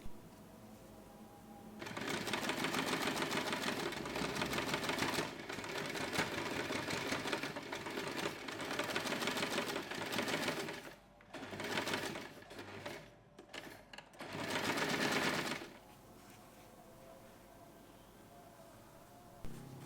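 A sewing machine topstitches around the edge of a small fabric snap-button keyring pouch, running steadily and close for several seconds, then stopping and starting in a few short bursts before falling quiet.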